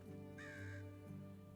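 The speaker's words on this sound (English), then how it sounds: "Okay, we've got some crows." Crows cawing in a forest in the medieval video game Medieval Dynasty, a faint, drawn-out caw over a steady ambient hum, followed by a softer call.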